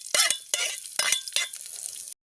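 Onion and chilli tossed into hot oil in a pan, loud sizzling bursts with stirring scrapes, close and alone.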